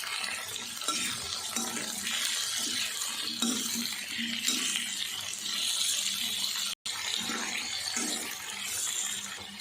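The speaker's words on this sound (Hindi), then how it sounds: "अच्छे से इनको फ्राई कर लेते हैं।" Sliced potatoes frying in ghee in a pan give a steady, dense sizzle and hiss that carries on almost without break for about ten seconds, close and fairly loud.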